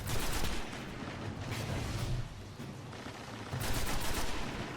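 Sustained automatic gunfire from a Destiny strike against invisible Vandals and Hive enemies, a dense rattling stream of shots that briefly eases in the middle and then surges again, loud and continuous with no voices.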